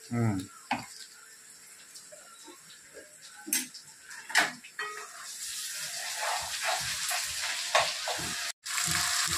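Ginger garlic paste sizzling in hot oil in a pan for a home-cooked mutton curry, a steady frying hiss with occasional stirring clinks and scrapes, with people talking intermittently nearby.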